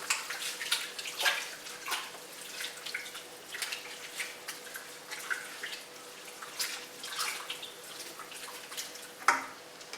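Water splashes and drips as cups are poured into a pot of sausage ravioli kale soup, giving irregular close trickles and splashes through the whole stretch, with one sharper splash near the end.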